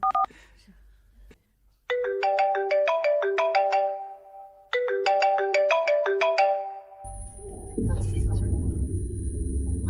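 A phone ringtone plays as a bright, tinkling melodic phrase that repeats twice, clear and close, before a low rumbling swell and a high sustained tone take over.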